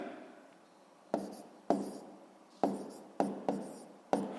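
Pen or chalk writing out a long division problem, with six sharp tapping strokes and scratchy scribbles spaced about a second apart, close and clear with no voice.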